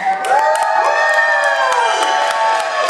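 Children cheer and shout together in a church, a loud sustained crowd of young voices with rising whoops, filling the whole stretch without a break.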